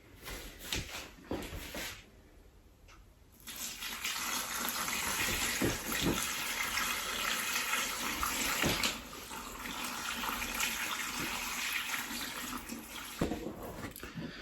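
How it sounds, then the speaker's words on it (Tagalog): Water pours from a tap into a cooking pan being readied for boiling suman malagkit, a steady rushing splash that starts after a brief lull and runs on loud and close, with small clatters. "Lagyan natin siya ng tubig."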